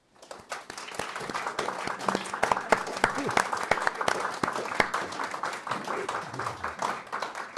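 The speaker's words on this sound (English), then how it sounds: "please give a great round of applause to our wonderful speakers today" An audience at an Institute of World Culture meeting applauds the day's speakers, clapping building quickly from silence into a lively, uneven patter of distinct hand claps that carries on steadily, with some voices mixed in.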